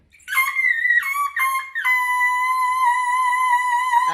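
A singer's piercing whistle tones from a Norwegian Eurovision song, a few short high notes followed by one long sustained note, loud and clear without other talk.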